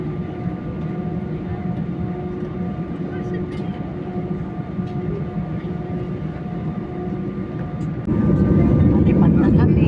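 Airplane engines drone steadily as heard from inside the cabin during a first flight's takeoff, a dense low roar that swells louder and fuller near the end.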